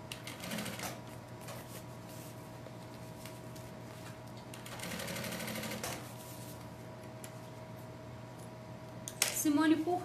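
Sewing machine stitching a seam with red thread, working in short bursts of rapid mechanical whirring separated by pauses, fairly quiet with a steady background hum and some handling noise.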